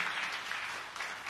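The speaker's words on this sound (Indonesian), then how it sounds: "Yang percaya tepuk tangan yang meriah bagi Tuhan Yesus." A church congregation breaks into lively applause during a worship sermon, a short burst of dense, even clapping from many hands.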